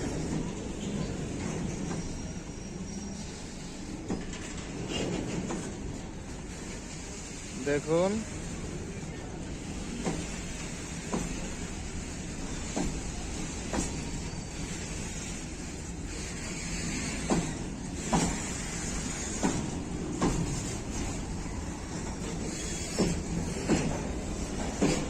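A very long freight train of many wagons halted at a signal, heard outdoors as a low rumble with wind buffeting, intermittent metallic clanks, and someone talking over it.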